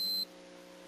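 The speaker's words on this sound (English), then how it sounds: "the digital type sounds a tone when doing continuity checks, indicating a common connection" A digital multimeter gives a single short, clean, high-pitched continuity beep lasting a fraction of a second during a continuity check, then falls silent, leaving only a faint low hum.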